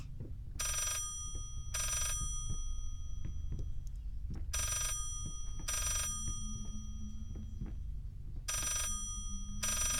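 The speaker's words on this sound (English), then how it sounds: "now the ringing stopped" An old-fashioned bell-style phone rings in the horror game Layers of Fear, loud and repeating in six evenly spaced bursts over a low rumbling ambience, with no voices.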